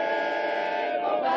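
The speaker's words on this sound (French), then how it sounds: "La foule entonne la Marseillaise." Crowd of police officers in a street protest singing the Marseillaise together, a dense wash of many voices holding a sustained chorus, loud and brief.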